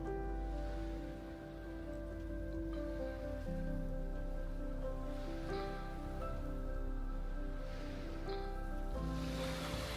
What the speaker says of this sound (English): just listening to the waves and gazing out over this magnificent scenery